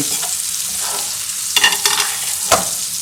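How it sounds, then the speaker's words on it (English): Butter, oil, thyme and garlic sizzle in a pan for steak, a bright constant frying hiss close up, with a few louder bursts as the pan is stirred or tilted. "we let the butter, oil, thyme and garlic mix here for a little while"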